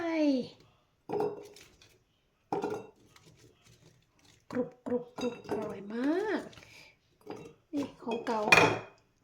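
Garlic cloves drop into a large, freshly scalded glass bottle for honey-pickled garlic, giving a few scattered glassy clinks between stretches of close talking.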